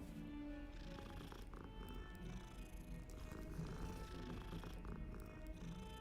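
Cat purring in the video game Hogwarts Legacy, a steady low rumble running the whole time under in-game music and ambience.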